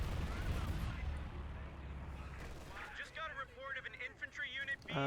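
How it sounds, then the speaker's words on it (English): An aircraft strafing run in Company of Heroes 2 tears out as a loud, dense burst of rapid gunfire and impacts for about three seconds, then fades as a voice starts talking. "Looks like that strafe just got something."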